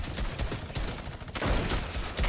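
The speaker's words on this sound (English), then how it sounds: "this shotgun shoots slow" A shotgun fires in a Fortnite gun-game match: a string of quiet, uneven shots and impacts with game ambience, muffled and low in level throughout.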